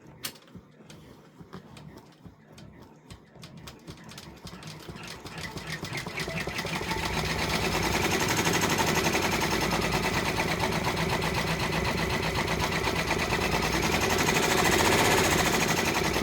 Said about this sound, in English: It's going to do some stitching in white.